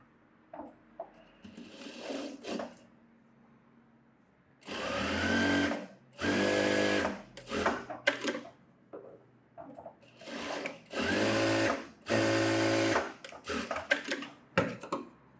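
A sewing machine stitches a fabric sleeve in several short, loud bursts of fast rhythmic running that stop and start, separated by quieter handling noises and brief pauses.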